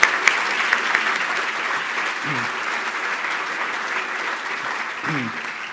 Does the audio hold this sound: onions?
no